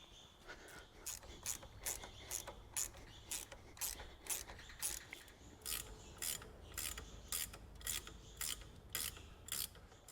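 Hand tools working on a Jeep Flatfender's generator mounting, a run of quick rhythmic ratchet clicks in repeated bursts with short pauses, close and clear, with no speech.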